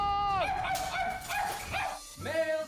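Several short, honking barks in quick succession, loud and close, with a brief pause before a final bark; the voice sounds like a bird imitating a dog's bark.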